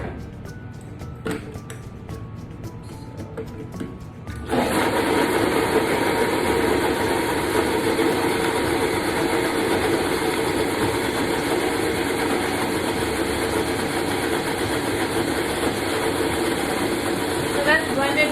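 Blender whirring through a nut-based vegan cheese sauce, starting abruptly after a few seconds of clattering and then running loud and steady for a long stretch.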